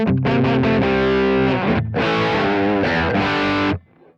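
Electric guitar chords through a Kemper Profiler amp tone with low gain and mild overdrive, loud and ringing, strummed in a few bursts before fading out.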